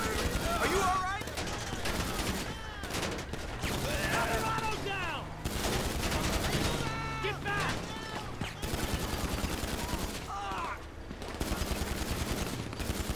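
Rapid gunfire from a GTA 5 video game firefight, sustained bursts of shots rattling nearly nonstop with brief gaps, loud and dense throughout, with a voice talking over parts of it.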